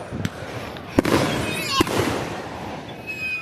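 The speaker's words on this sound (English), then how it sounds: "What you think about the fireworks?" Outdoor birthday fireworks give three sharp bangs that crack out at irregular intervals, followed by crackling fizz, with faint voices in the background.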